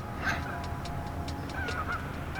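Several geese honk nearby in quick, overlapping calls over a low background rumble.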